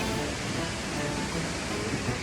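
Waterfalls in the heart of central Tbilisi produce a steady, diffuse rushing wash, continuous and moderately loud, with city ambience blended in.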